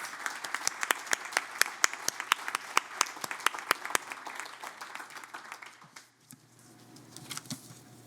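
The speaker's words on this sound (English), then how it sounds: "Can we give another round of applause for Dr. Edwards, please?" Applause at a town hall event, a fairly thin scatter of individual claps with sharp distinct hits, tapering off around six seconds before a few more claps and murmurs return.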